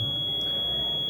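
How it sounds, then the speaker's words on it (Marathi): Continuous electronic beep from an electronic voting machine as its stored votes are cleared, a steady high tone held throughout with no voices. "बीपचा सलग आवाज यायला सुरुवात होते"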